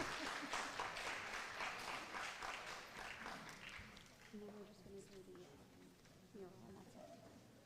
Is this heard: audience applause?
yes